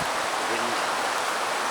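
Creek water flows steadily in the mountains on a tahr hunt, a dense continuous rushing wash filling the short moment without breaks.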